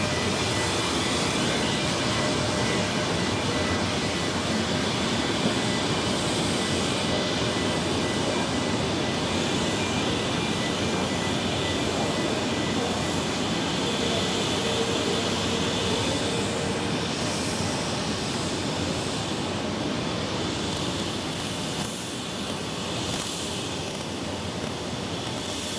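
An Edelweiss airliner at Zurich Airport: a continuous, loud broadband jet-engine roar that holds steady throughout with no breaks, heard from a plane-spotting position.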